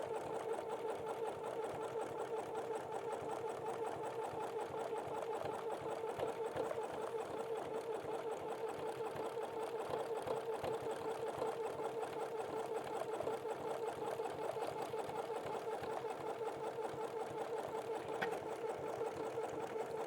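A sewing machine runs steadily for about twenty seconds, stitching a pumpkin appliqué onto a sweatshirt with a decorative edge stitch; the motor hum and rapid needle rhythm stay continuous and close, with no talking.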